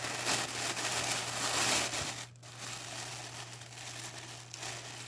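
Tissue paper crinkles and rustles as it is pulled away from a gray kitten plush during unboxing, a close, steady papery crackle with a brief lull midway and a faint low hum beneath.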